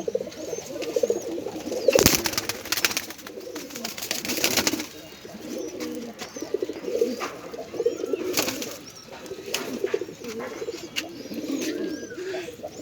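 A pigeon about to be released coos intermittently close by, with occasional rustling and a few wing-flutter sounds throughout.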